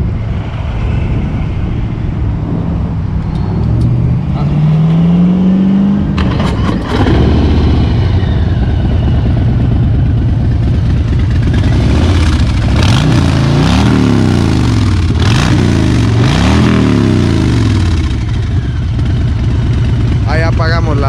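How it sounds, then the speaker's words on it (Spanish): A 2019 Harley-Davidson motorcycle engine idles with a deep rumble, then revs up several times in quick bursts, with people talking over it. "Préndela, güey. Dinos cómo suena tu moto."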